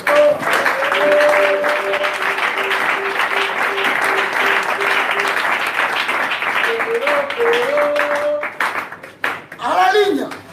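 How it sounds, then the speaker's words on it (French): Loud, sustained applause and cheering from a church congregation fills the room for about ten seconds, with an organ or keyboard holding chords underneath and a voice calling out as the clapping fades. "Est-ce qu'on peut acclamer très fort?"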